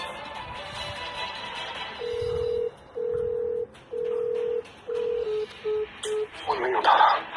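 A telephone call is dialed and then rings out as a series of loud, steady ringback tones, four long beeps followed by shorter ones. A voice speaks briefly over it at the start and end.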